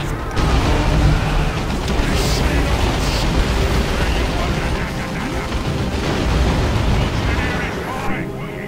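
Grenades bursting in a video game battle, a dense, loud run of booms and crackling blasts that fills the scene, with a voice talking over part of it.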